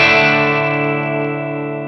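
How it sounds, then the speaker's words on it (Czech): A Les Paul guitar played through a dry Marshall amp, a single loud strummed chord ringing out and slowly decaying over about two seconds, close and alone. "Suchý zvuk Marshalla s Les Paulem zní takhle."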